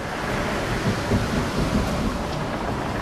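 A stormy sea scene with thunder rumbling over constant heavy rain, loud and enveloping, a dense unbroken roar with no voices.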